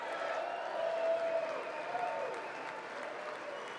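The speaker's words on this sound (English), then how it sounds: "Please don't clap every sentence, please." Sustained applause from members of Congress fills the chamber during a State of the Union address, a dense, steady wash of clapping with faint crowd murmur and no speech over it.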